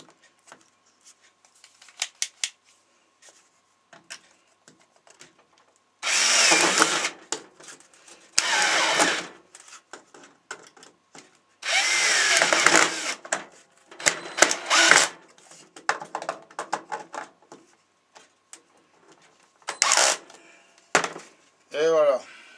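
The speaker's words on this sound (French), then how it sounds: "Et on visse." A power drill drives screws into wood on a homemade pocket-hole jig, with several loud whirring bursts between quieter clicks and handling noises, ending in a brief rising whine.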